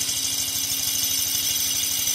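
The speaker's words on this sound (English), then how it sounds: "running his new and upgraded steam engine arrangement" Small upgraded steam engine arrangement running steadily with a fast, even chuffing pulse under a broad hiss, close and continuous, no voices.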